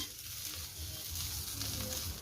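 Ingredients dry-roast in a pan with no oil, giving a faint, steady crackle and scrape of stirring close by, with no voices.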